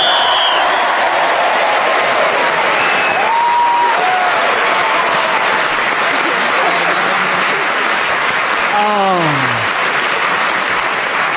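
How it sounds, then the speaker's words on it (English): Studio audience applause at a radio panel comedy show recording, a continuous even roar of clapping lasting throughout, with speaking voices layered over it. "a tremendous round of applause"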